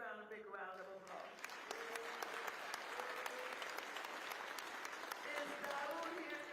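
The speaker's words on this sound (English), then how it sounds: "Give Greg Brown a big round of applause" Sustained applause from a crowd at a Lakers ribbon-cutting ceremony, steady clapping filling the space with a few sharper claps standing out, while a voice talks over it.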